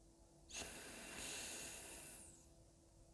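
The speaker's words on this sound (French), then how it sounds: "On souffle par la narine gauche." A single long, breathy exhale through the left nostril during a relaxation breathing exercise, close and quiet, a soft airy rush lasting about two seconds before trailing off.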